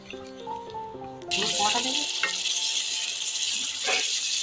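Prawn dopiaza with yogurt being stirred in a pan over a low flame: after a brief quiet, tonal opening, a steady close sizzle sets in, broken by soft scraping and clinking from the spoon, with no talking.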